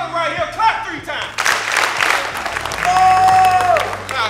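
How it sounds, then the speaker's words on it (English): A high school assembly crowd claps in a short burst, with talk and tonal sounds around it and a loud, busy room throughout. "Clap 3 times."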